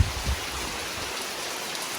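Light rain falls outdoors as a steady, even hiss with no distinct drops standing out, continuous and moderately quiet across the whole stretch.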